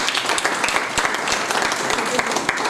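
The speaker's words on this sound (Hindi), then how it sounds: "तो आइए तालियों से प्रत्यक्षा जी का स्वागत किया जाए" A brief burst of dense audience clapping welcomes a guest author at a literary event, close and even throughout.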